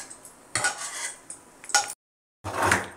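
Fried prawns are lifted from the pan onto a plate, a few short bursts of metal utensils scraping and clinking against cookware, close by, with one brief silent gap between them and no talk.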